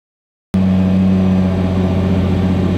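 A Nissan R35 GT-R starts up and idles steadily inside a garage, its engine note deep and constant with a low rumbling hum, loud and close, holding without revving.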